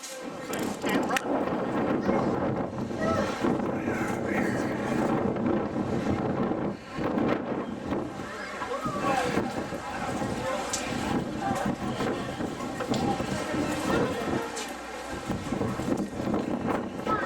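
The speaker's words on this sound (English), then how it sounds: "It's nice and windy over here." Strong gusty wind buffets the microphone on the open deck of the aircraft carrier USS Lexington in Corpus Christi, a loud, continuous roar that swells and dips, with people talking underneath.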